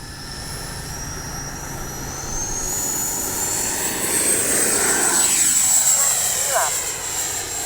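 A small FMS 80mm electric ducted-fan F-86 model jet flies past with a steady high-pitched turbine whine that rises and sweeps in a Doppler shift as it nears, under faint outdoor noise.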